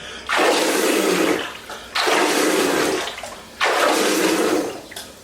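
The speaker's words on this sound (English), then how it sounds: "So I'm just going to splash my face and breathe out at the same time." Three loud bursts of splashing water as cold water is thrown onto a face with a forceful exhale, each splash lasting over a second, close and alone, in a cool open-water swimming setting.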